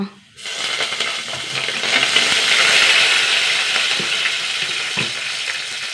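Curry leaves drop into hot oil and burst into a loud, close sizzle that rises sharply after a short quiet moment, then holds as a steady, crackling hiss for several seconds.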